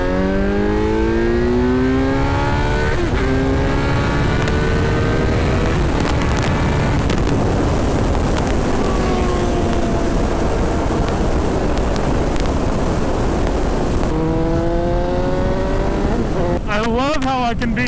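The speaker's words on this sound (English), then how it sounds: "You wanna do a third gear pull from here and see what happens?" A Kawasaki Z900 motorcycle pulls hard in third gear, its engine climbing in a steady rising howl. After a brief shift-like dip it keeps revving upward with wind roar throughout, loud and close, with no voices over it.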